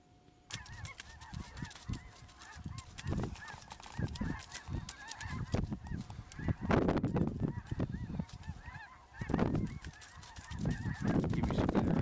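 A large flock of snow geese over Missouri River bottoms honks continuously, overlapping calls near and far, with bursts of louder honking rising and falling throughout.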